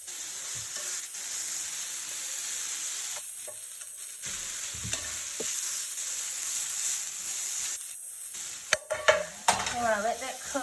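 Plant-based pork from a meal kit cooking in a pan hisses in a steady, even sizzle, with a few sharp clinks and scrapes of a utensil near the end.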